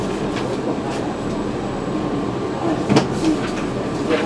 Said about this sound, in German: Der eingefahrene Museumszug Gleis 1 fährt anlässlich der Sonderfahrt von der Elbahn hier an.